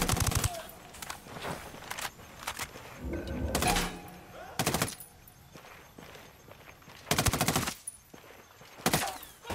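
Bursts of automatic gunfire in a PC shooter game, several loud sharp volleys spaced across the scene with thuds and footsteps between them, and a voice speaking briefly.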